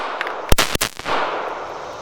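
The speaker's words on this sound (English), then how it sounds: "But enough talking, let's do some shooting." Two sharp, close pistol shots from a SIG P211 GTO or OA Defense 2311 fired in quick succession outdoors, each a loud crack with a brief ringing tail, followed by a fainter third report.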